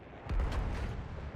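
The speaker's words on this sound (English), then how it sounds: "it's only a coastal gun." In Battlefield 1, a coastal gun fires a single deep, muffled boom with a short rolling tail, heard at a distance and fairly faint.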